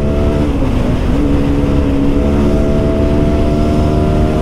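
A modified RR310 and a Keeway K300R motorcycle accelerate hard in a drag race, giving a loud, steady engine drone with a slowly rising pitch that holds throughout, with no voices.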